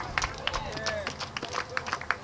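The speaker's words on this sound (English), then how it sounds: "give another round of applause" Applause at a Newark rally against police violence comes as a brief patter of claps amid crowd noise and a voice speaking over it.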